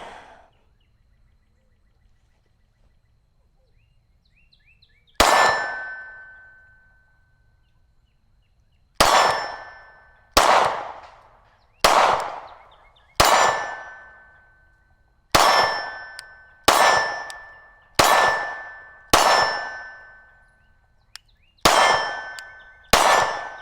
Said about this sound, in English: so we're going to get into the shooting.